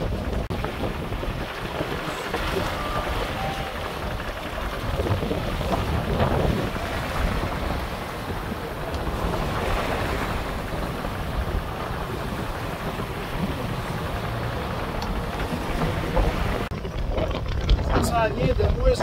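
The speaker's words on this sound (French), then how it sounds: "le vent il est en haut de 20, on a été chercher jusqu'à 25 nœuds" Strong wind of 20 to 25 knots roars steadily across the microphone on a sailboat at sea off Nova Scotia, with water rushing past the hull in a continuous loud wash.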